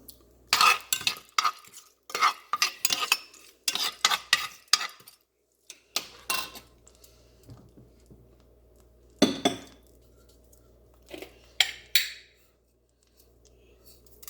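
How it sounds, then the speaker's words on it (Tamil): Cinnamon, cloves and cardamom fry in sunflower oil for pork sukka while a spoon stirs and scrapes the pan in irregular close bursts, with quiet gaps and a faint sizzle beneath. "இதுக்கு தேவையான பட்டை, கிராம்பு, ஏலக்காய் போடுறோம்."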